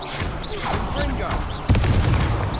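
Confringo explosive spell going off in Hogwarts Legacy: a sudden loud blast bursts in near the end and rumbles on, following a stretch of voices and lighter game sounds.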